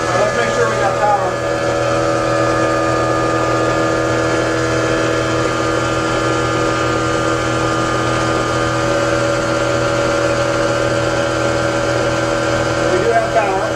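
Steady, loud engine drone with a constant tonal hum from a 40 kW generator running under load, unbroken for the full stretch and with no speech.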